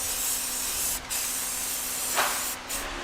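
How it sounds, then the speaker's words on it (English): Rust reformer is sprayed by hand onto an old Cadillac that has been in storage for 30 years, giving a loud, continuous close hiss with a few short pauses between bursts. "That's the last of our rust reformer sprayed by hand in sensitive areas."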